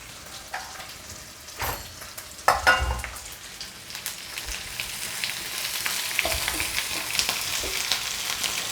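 Onions frying with half a spoon of ginger-garlic paste in a pan for chicken liver fry, a steady close sizzle that grows denser and louder, broken by a few stirring clanks early on.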